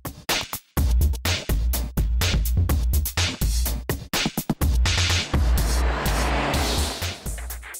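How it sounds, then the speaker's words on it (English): A Mazda MX-5 open-top roadster drives past up close with a loud engine note. The sound comes in choppy, pulsing bursts, then settles into a rushing wash. "This is a Mazda MX-5."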